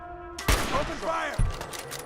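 Fallout 4 gunfire erupts in a fight against raiders at Hangman's Alley, played on Xbox One: two loud, sharp bursts about a second apart, with in-game voices heard between them.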